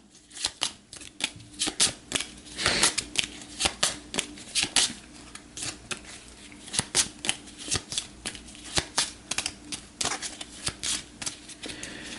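A deck of cards for the Gaia Project board game is shuffled by hand, producing a steady run of crisp riffling flutters and snaps close by, repeating in quick bursts for the whole stretch with no talking.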